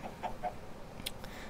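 A video game chicken gives a few soft, brief clucks, faint and spaced out over a quiet background.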